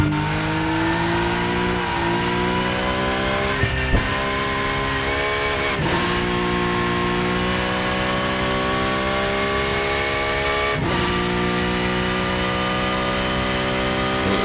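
Porsche Cup race car in the Rennsport racing game at Spa, its engine howling loudly and continuously with rising and falling revs through gear changes, joined by brief tire squeal, no talk.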